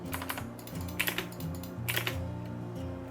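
Computer keyboard typing and mouse clicks while drawing in CAD software, a quiet run of quick, uneven key taps and clicks close to the microphone with a low hum underneath.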